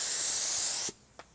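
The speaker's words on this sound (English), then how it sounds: "when I'm spraying up here, watch what happens" An automotive paint spray gun hisses in a steady, loud, close-up blast that cuts off abruptly after about a second, followed by a faint click.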